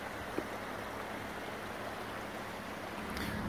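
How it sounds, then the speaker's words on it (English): A waterfall in Spain gives a steady, broad rush of falling water that stays even and continuous throughout, with no voices over it. "It's a waterfall as well."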